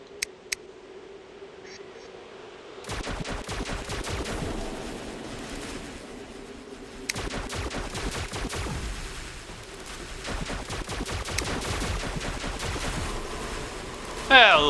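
A video game squad lets off staggered gunfire, rapid rattling shots layered into a continuous crackling volley that keeps up steadily after a quiet start, with a few sharper cracks poking through.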